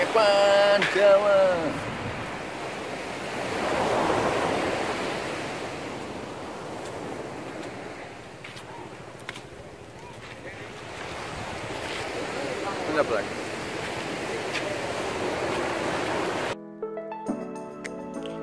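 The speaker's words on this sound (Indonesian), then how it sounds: "Wih, deburan ombaknya." Ocean waves crash and rumble at Pandawa beach in Bali, with wind buffeting the microphone. A brief voice comes near the start, and the surf rises and falls in broad swells before the clip cuts to music at the end.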